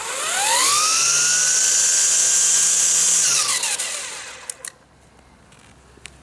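Ryobi One+ 18-volt brushless cordless string trimmer running, its high whine rising as it spins up, holding at full speed for a few seconds, then winding down into quiet with a few small clicks, loud and close.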